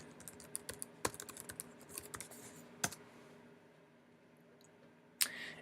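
Keys clack on a computer keyboard as a web address is typed into the Chrome browser: a quiet, scattered run of light clicks with a few sharper taps and a brief louder burst near the end.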